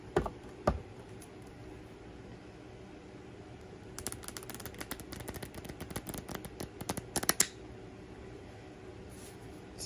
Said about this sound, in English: trying to attempt to Riffle shuffle.